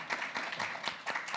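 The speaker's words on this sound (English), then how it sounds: "Let's just have a quick round of applause." Conference audience gives a quick round of applause, a brief, moderately loud patter of scattered hands with uneven bursts.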